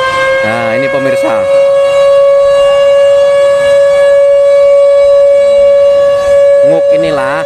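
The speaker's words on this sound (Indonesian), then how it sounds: "Nguk inilah konon katanya peninggalan pada zaman Belanda dulu, merupakan sirene perang." A loud, sustained wail comes from an old Dutch colonial-era war siren in the Blora town square, sounded to mark the breaking of the fast. Warbling tones waver at the start and again at the end.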